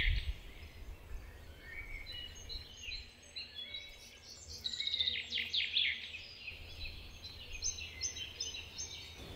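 Wild birds chirp and call around a garden bird feeder in January, a steady mix of small tweets and brief song phrases at moderate distance with no voices.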